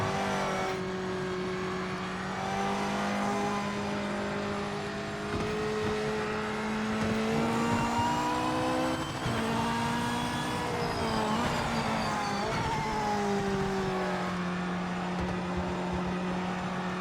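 A race car engine in the video game Project Motor Racing revs steadily with audible downshifts, the pitch rising and dropping as gears change, with faint tire noise, heard continuously and fairly close without any talking.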